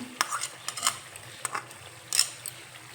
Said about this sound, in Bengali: টমেটো সস দিয়ে আবার একটু নেড়ে চেড়ে নেব।